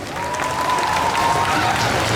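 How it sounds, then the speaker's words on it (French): Steady audience applause fills a cosplay contest hall at a Toulouse gaming show, a continuous dense clapping wash lasting the whole moment, with a faint tonal hum running underneath. "Je vous demande d'applaudir bien fort Cutie."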